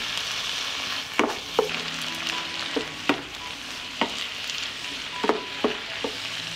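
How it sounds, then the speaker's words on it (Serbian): Vegetables and zucchini flesh sizzle steadily in a hot pan while a utensil scrapes and taps against it every second or so, close by. "Sve ću promešati i pržiti."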